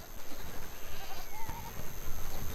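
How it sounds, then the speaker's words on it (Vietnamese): A goat bleats while being dragged into a river to cross it, with a few short, faint cries over a noisy, splashy outdoor background. "Con dê bị kéo xuống nước và bị bắt phải qua sông."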